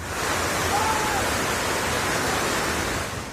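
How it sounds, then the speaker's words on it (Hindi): Fast-flowing floodwater from a flash flood in Ganderbal, Kashmir, rushes in a loud, steady, unbroken roar close by. "तेज रफ्तार पानी जब घर में घुसने लगे"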